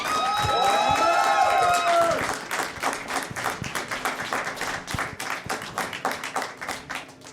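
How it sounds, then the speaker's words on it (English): A live audience at a late-night Star Wars chat show in Chicago claps and cheers. The crowd starts loud with a mix of shouts and applause, then settles into a steady run of clapping that continues to the end. "So by round of applause, the Rey Kylo scene."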